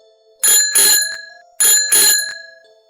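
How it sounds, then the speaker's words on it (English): A bicycle bell rings in two quick double bursts, bright and close, with a short pause between the pairs. "It sounded almost like a bell on a bicycle."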